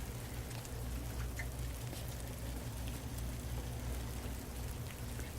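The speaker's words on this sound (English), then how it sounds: "but it's raining." Rain falls steadily outdoors on a cold day, giving a soft, even patter and hiss with faint scattered drops throughout, at low level and with no talking.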